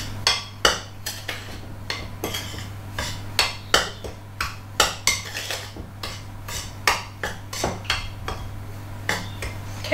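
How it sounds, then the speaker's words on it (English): A large metal spoon scrapes and clinks against a bowl while mixing flour and caster sugar for cupcakes, giving steady, rhythmic taps roughly every half second over a low background hum, with no talking. "take a large metal spoon and just mix that together a little bit"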